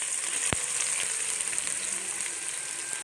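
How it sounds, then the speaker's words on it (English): Onions sizzle steadily in heated oil with spices for a shrimp biryani, a continuous bright frying hiss close by, with a single sharp tap near the start. "Now I am adding the onions"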